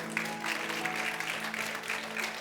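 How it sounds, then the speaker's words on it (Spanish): A church congregation applauds steadily, a dense wash of clapping that holds at an even level throughout. "Denle un aplauso a Cristo porque Él es bueno."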